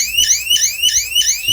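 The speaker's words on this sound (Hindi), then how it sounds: "अभी हमारा सायरन बज रहा है" Loud security alarm siren from an ECO 5 system sweeping upward in rapid, repeating whoops, four or five cycles, close and continuous with no talk.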